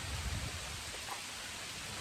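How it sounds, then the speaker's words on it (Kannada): Heavy rain pours steadily during a downpour in Mysore district, a constant close wash of falling water with no pauses and no voices. "ತುಂಬ ಮಳೆ ಬರ್ತಿದೆ"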